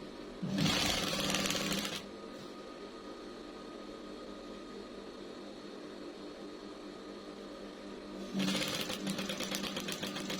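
Home sewing machine stitching fabric for a ruffled Turkish-style kitchen curtain: a close, steady motor whir for about a second and a half, then a quiet gap of low hum before it starts stitching again.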